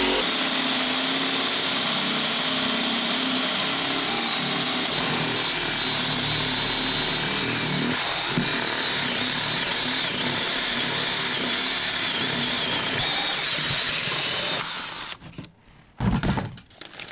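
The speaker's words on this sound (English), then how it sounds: "We're going to just drill our water lines." A power drill whines continuously at close range for a long stretch, boring into wood for water lines in a mobile home, then cuts off, followed by a brief clatter and quiet.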